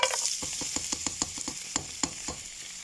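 Onion, garlic, black lemon and bay leaves sizzle in a pan of butter and oil, a steady frying hiss broken by a regular run of clicking stirs and scrapes, close and moderately loud with no talk.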